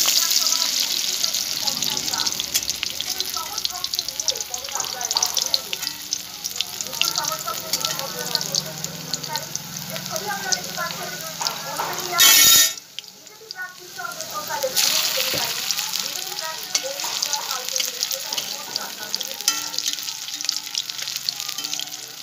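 Dimi greens pakoras fry in hot oil with a continuous crackling sizzle, briefly interrupted by a loud clatter midway before the bubbling resumes.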